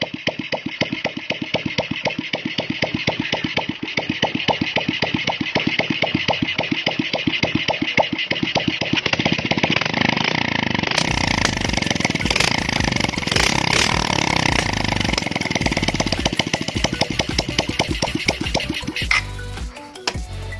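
A restored Suzuki Shogun 125 motorcycle engine runs steadily and close by, with a fast even putter that grows fuller and louder partway through before cutting off near the end.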